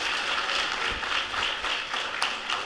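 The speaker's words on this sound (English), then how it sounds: "I want everyone to give all of these students a big round of applause" Applause at a school board meeting for graduating high school students: a crowded room claps steadily at moderate volume, a continuous rattle with a few louder individual claps.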